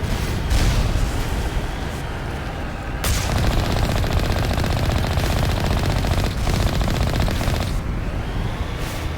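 Sustained, dense turret gunfire from the video game Mass Effect, loud and close, rattling almost without pause across the whole stretch with brief dips between bursts.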